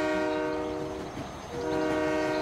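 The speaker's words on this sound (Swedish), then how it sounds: "Ett cirkuståg." An animated circus train approaches, sounding a loud sustained horn chord that dips briefly and then swells again over about two seconds.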